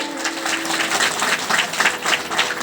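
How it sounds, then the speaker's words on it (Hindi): An audience at a devotional gathering about Lord Shiva applauds, a dense burst of rapid clapping that pulses in uneven waves at close range for the whole stretch. "ताली बजाने पड़ेगा, जोरदारी से बजाओ"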